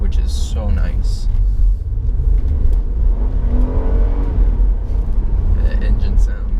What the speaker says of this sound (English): The engine sound, man.